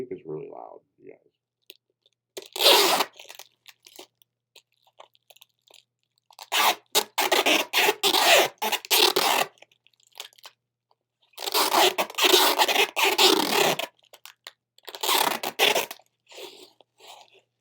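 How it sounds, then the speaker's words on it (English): Adhesive tape ripped off a roll in loud, crackling bursts, several long pulls separated by pauses, with speech in between. "It is really loud. Like, tape is really loud, you guys."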